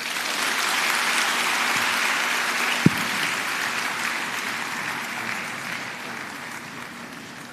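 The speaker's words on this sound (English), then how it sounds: "the governor of the Central Bank of Nigeria, Mr. Olayemi Cardoso, deserves another round of applause" Sustained audience applause fills a large hall after a keynote lecture at a Central Bank of Nigeria annual lecture series, a steady dense wash of many hands that slowly tapers near the end, with one sharp knock partway through.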